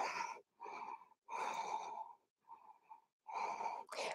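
Slow, deep breaths during a vinyasa power yoga flow, a series of about five long, audible inhales and exhales with brief pauses between, close and clear with no talking.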